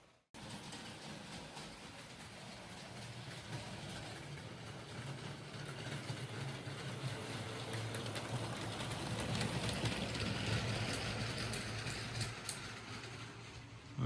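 LEGO Disney train running on a tabletop layout, a faint steady whirring motor hum with light rolling clatter, continuous and slowly swelling as it passes nearer, with no voices.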